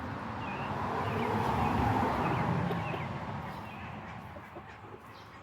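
Backyard chickens kept in an old coop cluck and chatter faintly at a distance, soft scattered calls over steady outdoor ambience with wind-like noise.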